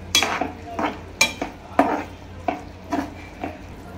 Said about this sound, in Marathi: आणि आता आपण हे ढवळून घेऊया